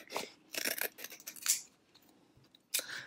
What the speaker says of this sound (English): I'm just going to trim what I want to save as a scrap